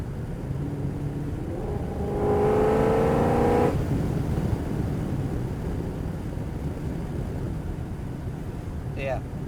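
2003 Mercedes E55 AMG accelerating, its engine rising in a steady revving pull before the gearbox grabs the next gear, then settling into a lower drone, with road noise throughout.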